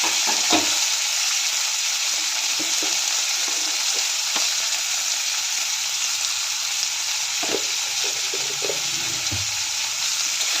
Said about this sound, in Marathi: टोमॅटो आलं लसूण कांदा सर्व घालून तांबूस रंग येईपर्यंत परतून घ्यायचं